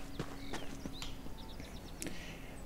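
Hoofbeats of a horse mount in the Elder Scrolls Online video game: several sharp clip-clop steps in an uneven gait over a soft game ambience with faint bird chirps, no talking.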